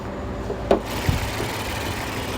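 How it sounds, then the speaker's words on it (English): A stock Infiniti Q50S runs with the hood open, the engine bay cover and intake covers removed. It drones steadily at close range, with a couple of faint clicks and no speech. "I took the intake covers off so you can hear it a little bit"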